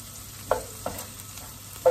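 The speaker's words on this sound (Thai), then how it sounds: "กระทะร้อนก็ใส่หอมหัวใหญ่ลงไปผัดก่อนนะเพื่อนจะได้หอมนะคะ" Onions being stir-fried in olive oil in a hot pan, with three short scraping stirs spaced across a faint background sizzle.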